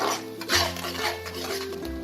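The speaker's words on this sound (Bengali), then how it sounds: "এবার এই মশলাটাকে আমাকে খুব ভালো করে কষাতে হবে" Blended spice paste for egg korma being stirred and sautéed in a pan, soft close scraping strokes with a low sizzle under them and a couple of heavier stirring pushes.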